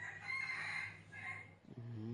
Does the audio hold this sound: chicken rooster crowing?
yes